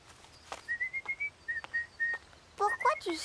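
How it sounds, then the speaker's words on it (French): A person whistles a series of short, bright notes in a rhythmic phrase to call to birds, close and clear, followed by a higher child's whistle at the end. "Pourquoi tu siffles?"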